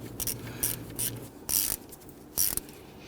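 A ratchet tightens the camshaft position sensor bolt on a 2011-2015 Kia Sorento 2.4L, with four or five short bursts of quick clicking, close and fairly quiet, separated by brief pauses and no talk.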